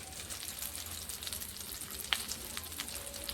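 Hot oil tempering for a chutney gives a steady, close sizzle and crackle throughout, with one brief sharper pop partway through and no talking.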